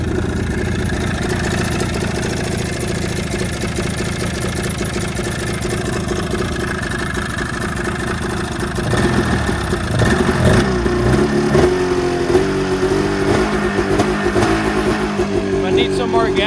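A Mountain Cat's engine runs after carburetor work, a steady loud idle through the first half, then rising revs and throttle blips near the end. A person talks over the engine.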